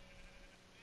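A sheep in Minecraft gives a short, faint bleat over a quiet background, no speech.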